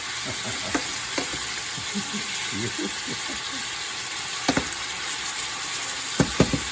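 Shrimp cooking in a pan for a spicy marinara, with a steady sizzle under scattered stirring clatters and a few sharper utensil knocks, while people talk quietly in the background.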